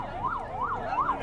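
An ambulance siren wails on the road in a steady rising and falling pattern, three even sweeps over a low rumble of street noise, moderately loud and unbroken.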